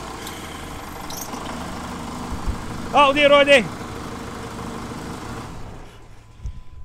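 A 2008 Jeep Cherokee with a large fuel leak fault runs steadily at close range, a constant engine drone under a brief spoken remark from a man.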